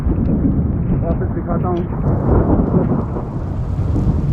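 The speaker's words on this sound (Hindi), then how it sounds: "मैं ज़्यादा देर बाहर नहीं घूमना चाहता क्योंकि काफ़ी ख़तरनाक बिजली कड़क रही है" Loud thunder rumbles and cracks during a lightning storm in the Siddhpur area of Dharamshala, with rain falling throughout and someone talking over the storm.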